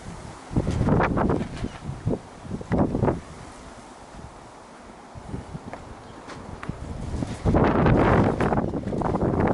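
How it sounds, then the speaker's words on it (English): Strong wind buffets the microphone in heavy roaring gusts, rising and easing over several seconds with a fierce blast near the end. "just to show you how windy it is today"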